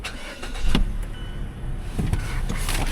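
A 2015 Chrysler Town & Country minivan engine idles steadily at close range, a low continuous rumble with a couple of brief clunks and no talking.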